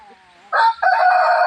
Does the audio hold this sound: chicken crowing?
yes